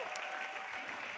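Audience applause at a recognition awards programme, a dense steady burst of many hands clapping filling the whole short moment without any speech on top.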